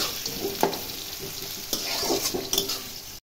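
Onions fry in a pan for a meat curry, a continuous sizzle broken by several spoon stirs and clinks against the pan, close and fairly loud with no talking.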